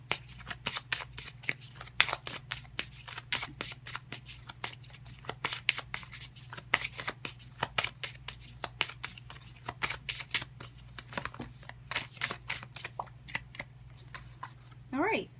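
A deck of oracle cards is shuffled steadily, a dense run of crisp riffling flicks close by, continuing throughout with a faint hum beneath and no talk over it.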